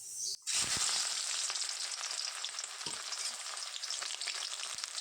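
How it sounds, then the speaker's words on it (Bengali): Chopped onions and green chillies fry in hot oil, a loud, dense, close sizzle that starts abruptly and continues steadily with a few faint stirring knocks, no voices. "এখন একটু পেঁয়াজ ভাজবো আর কাঁচা লঙ্কা।"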